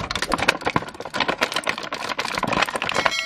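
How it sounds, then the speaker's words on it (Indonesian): Crinkling plastic packaging of an S.H. Figuarts Den-O Deneb Imagin action figure, a dense, continuous close-up rustle and crackle with no talking. "Ada yang pengen dengar suara plastik ini nih."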